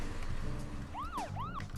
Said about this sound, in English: So I have a siren, which is also a boost button.